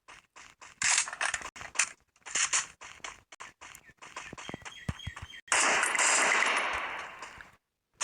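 Free Fire game gunfire: rapid bursts of automatic shots in clustered volleys with mechanical reload clicks, loud and close, followed by a sustained blast of noise before a brief silence.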